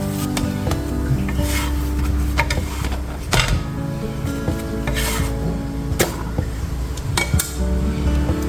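Homemade flatbread cooking in a hot pan, a steady close sizzle broken by clinks and scraping knocks of a utensil against the pan.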